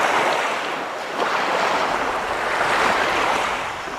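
Steady, loud surf washes in continuously, waves rolling and breaking nearby with a broad hissing roar and some wind.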